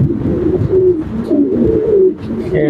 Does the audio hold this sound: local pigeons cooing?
yes